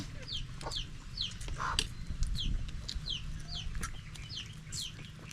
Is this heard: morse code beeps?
no